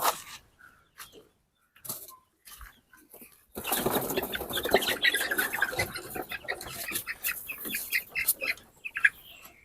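Fayoumi chickens cluck and call in a busy chorus, faint and sparse at first, then a dense, continuous flock noise fills the rest.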